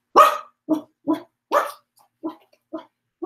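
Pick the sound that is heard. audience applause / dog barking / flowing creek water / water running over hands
dog barking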